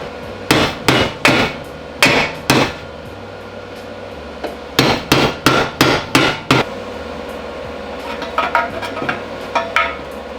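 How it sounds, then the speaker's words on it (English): Hammer striking a bent exhaust pipe clamped in a vise, loud sharp metallic blows in quick bursts of several hits, pausing between groups, then lighter taps toward the end. "we're gonna put it in the vise and try to like clamp it straight, maybe tap it with a hammer."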